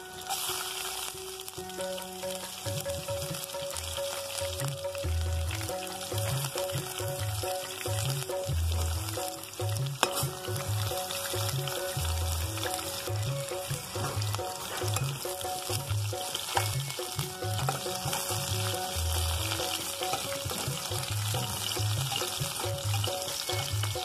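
Onion and panch phoron spices sizzle in hot oil for a mixed vegetable fry, a steady bright crackle with occasional stirring clatter from the pan, close and continuous.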